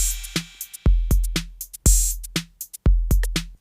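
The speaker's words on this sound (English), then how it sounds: "I created here an 808 drum beat that sounds like this." An 808 drum machine beat plays alone: deep, booming kicks with tight snares and crisp hi-hat ticks in a steady, punchy electronic pattern, close and clean.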